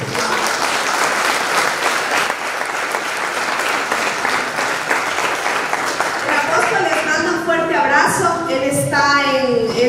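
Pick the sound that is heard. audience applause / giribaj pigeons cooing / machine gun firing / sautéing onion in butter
audience applause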